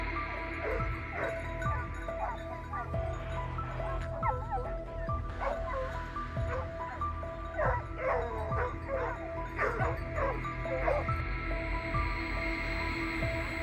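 Hunting dogs bark and yip in quick, scattered bursts from the foot of a hill during a wild boar hunt, with a few whimpers mixed in over a steady outdoor background.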